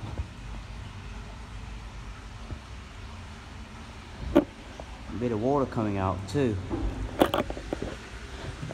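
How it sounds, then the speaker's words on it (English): A vehicle rolls over a manhole cover, heard from inside a sewer: two sharp, hollow metallic clunks a few seconds apart over a steady low rumble, while someone talks nearby. "That's the sound of a manhole cover just then."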